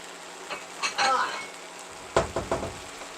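A browned Western omelet sizzles in a pan, with a soft, close sizzle broken by a few sharp scrapes and clatters of the pan and utensil. A person talks over parts of it.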